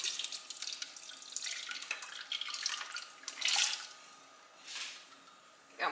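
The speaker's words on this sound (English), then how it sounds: "let's pour this in our blender. Just gonna slowly pour this in." Liquid hot sauce mixture of Tabasco peppers pours and splashes in uneven bursts into a blender, a trickling, gurgling stream with a couple of louder surges, close and without talking.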